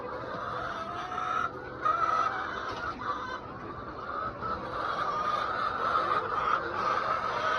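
A flock of hens clucks and calls continuously close by, with a young rooster's uneven crowing mixed into the busy chatter.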